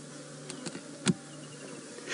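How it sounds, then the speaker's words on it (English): Flies hum over a pile of tar-like dung during an afternoon safari drive, giving a soft continuous buzz with a few louder close passes and no talking. "the buzzing of flies"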